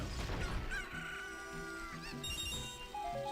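A chicken in the Ocarina of Time video game gives a crowing, clucking squawk, loud and close, with game sound effects layered around it and no talk.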